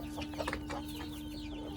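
Black American silkie chickens, a male and a female, cluck softly in short bursts over a constant low hum, no voices, the sounds close and brief.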